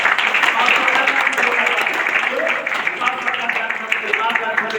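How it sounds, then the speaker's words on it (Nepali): Loud, sustained applause fills a hall at a DXN company gathering in Nepal, a thick wash of many hands clapping at once, with voices blending in beneath the steady roar. "DXNलाई एकचोटि जोरदार ताली।"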